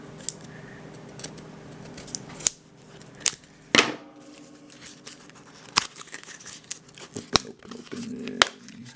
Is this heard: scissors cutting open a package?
yes